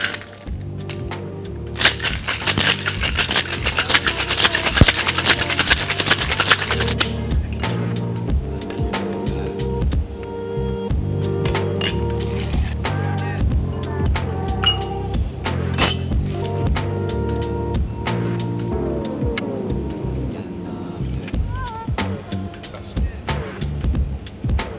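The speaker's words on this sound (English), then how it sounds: "And give it a hard shake." A cocktail shaker holding ice, fresh lime juice and hibiscus-infused vodka is shaken hard, with a dense rattle of ice at first, then scattered clinks and cracks over a steady tonal backing.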